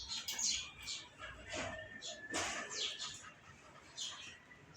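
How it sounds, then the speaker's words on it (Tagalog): High, bright chirps and tweets from a small yellow bird come in short scattered bursts, fairly close, with a soft background hiss and no talking. "pagmasdan nyo ang yellow na ibon, dumadapo sa kanilang sanga"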